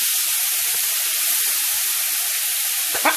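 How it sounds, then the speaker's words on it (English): Steak sears in a hot pan for about 2.5 minutes per side, a steady dense sizzle and hiss running throughout, close up with no talking, ending in a brief clatter. "Sizzle, baby. Sizzle. Don't burn, but sizzle."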